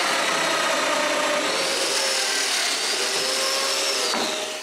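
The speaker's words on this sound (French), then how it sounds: "je marque les endroits où percer les mortaises de domino et je les perce" A domino joiner plunges mortises into wooden panels for a cabinet, giving a loud, continuous high-pitched motor whine with a grinding, rasping cut that varies slightly in pitch and fades at the end.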